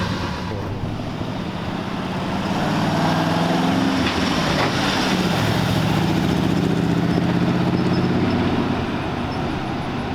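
A 1940 Ford convertible engine running steadily, with its throttle revved partway through so the rumble rises and swells before settling back, loud and close with no talk.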